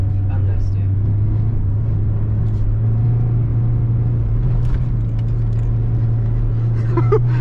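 A Citroen XM 2.1 TD diesel car with 109 hp is heard from inside while driving: a steady, loud engine drone and road rumble run throughout, with someone speaking over it.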